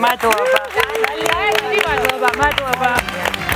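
A studio audience applauds with scattered clapping and cheering under someone speaking thanks, busy and close.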